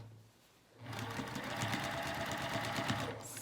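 A sewing machine stitching pajama pants starts up after a brief quiet moment, then runs in a fast, steady mechanical whir with rhythmic needle clatter, close and clear.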